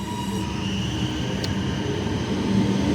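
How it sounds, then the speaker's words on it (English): An Alstom Comeng suburban train sits at a Melbourne station platform, giving off a steady low rumble and electric hum, with a brief high squeal partway through, close and continuous. "This is an Alstom Comeng, so it should still be around"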